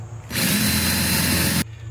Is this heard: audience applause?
no